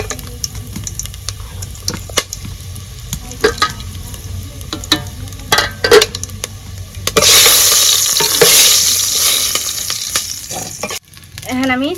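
Whole spices, cinnamon and black cardamom, hit hot mustard oil in a saucepan with a loud, steady sizzle that swells partway through, after quieter stirring and clinking; no one speaks.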